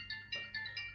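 A phone and a smartwatch ring together, a faint electronic ringtone repeating in short, evenly spaced bursts, heard alone.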